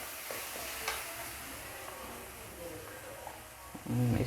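Spices and tomato fry in a pan with soft sizzling and light stirring scrapes, fairly faint and close, before a voice starts speaking at the very end.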